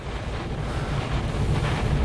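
Strong gusty wind during a thunderstorm gust front with heavy rain, heard from inside a moving Land Rover Defender storm-chasing vehicle in northwest Ohio: a loud, constant roaring rush buffeting the microphone, with no voices.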